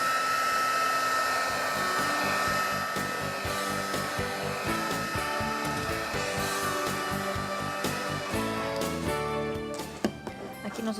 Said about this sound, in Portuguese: Aqui nós usamos o soprador